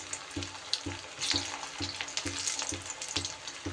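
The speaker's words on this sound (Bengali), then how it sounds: "এইবার তেল গরম হলে মাঝারি আঁচে আমি এগুলোকে কিন্তু ভেজে নেব।" Vegetable chops frying in hot oil over medium heat, a steady close sizzle with periodic soft thuds and bursts of crackle as pieces settle and are moved in the pan.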